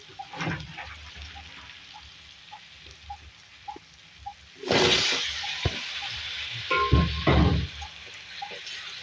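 Potatoes and green chillies sizzle and spit in a hot pan for a Winter Special aloo matar dish, with a steady frying hiss and a louder burst of crackling as more ingredients drop in.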